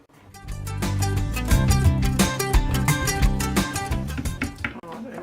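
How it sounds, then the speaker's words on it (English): A handheld stick blender whirs in a jug of melting cocoa butter during cold-process soap making, a steady close buzzing drone that rises and holds for several seconds before cutting out. "I might give it a little bit of a hand with the blender"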